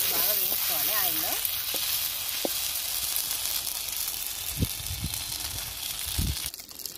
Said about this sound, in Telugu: వేసి ఈ అల్లం వెల్లుల్లి పేస్ట్ బాగా వేయించుకోవాలి ఆయిల్లో.